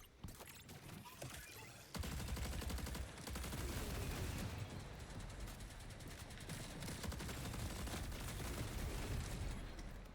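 Missile launcher fire in the sci-fi shooter Marathon, a sustained loud barrage of rapid launches and blasts rolling on for several seconds after a quieter opening, with no talking.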